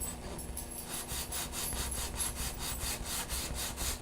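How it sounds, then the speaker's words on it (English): Paint being sanded off a piece of used wood by hand, with steady rhythmic back-and-forth rubbing strokes, close and fairly quiet, and no talking. "And there's actually some paint I could probably sand off on this side."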